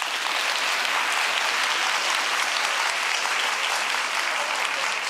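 Studio audience applauding for a steady five seconds, dense and continuous, loud and close with no talk over it.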